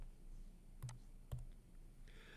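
A few sharp plastic clicks of keys being pressed on a calculator while typing in an equation, close and quiet with short gaps between presses.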